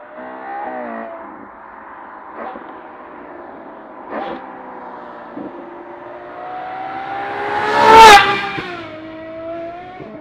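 A Ferrari 812 GTS fitted with a Novitec exhaust accelerates with a smooth, rising V12-style tone, climbing through the revs with brief shift dips and a louder, harsh burst near the end, heard clearly without talk.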